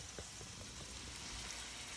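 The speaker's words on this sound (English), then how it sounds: "while that's sizzling down, we don't want it to burn" Plant-based Jamaican-style taco filling sizzles steadily in a hot pan, a close, continuous frying hiss with faint crackles and no talking.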